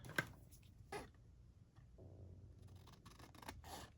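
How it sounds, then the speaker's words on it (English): A few quiet, crisp snips of scissors close by, separated by short pauses, with faint rustling and scraping in between. "And we're gonna just chop this way with scissors."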